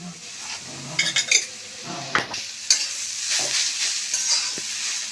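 Grated radish with salt and turmeric fries in a pan, sizzling steadily while a spatula scrapes and clinks against the metal in irregular bursts, close by and without talking.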